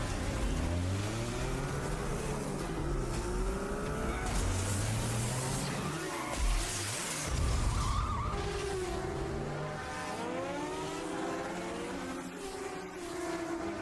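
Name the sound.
motorbike engines and skidding in chase, audiobook sound effect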